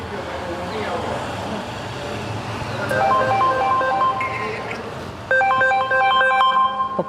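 A phone rings with an incoming call indoors, its electronic ringtone starting partway through and growing louder in the last two seconds over a background hum and faint street traffic.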